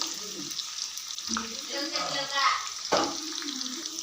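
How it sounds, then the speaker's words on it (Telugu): Bitter gourd pieces fry in oil, a soft, low sizzle with light bubbling and occasional stirring taps, fairly quiet and close. "కొన్ని కొన్ని వేస్తూ వేయించుకోవాలి"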